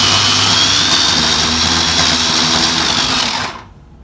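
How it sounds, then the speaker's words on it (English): Blender whirring as it purees coriander with lemon into a marinade for steamed fish, a steady loud motor whine held for about three and a half seconds before cutting off abruptly; no talking over it. "I'm going to cover it up and I'm going to blend it."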